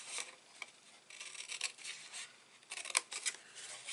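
Scissors cut through cardstock for a Stampin' Up box step card, giving crisp, close snips in an irregular series of short strokes against a quiet background.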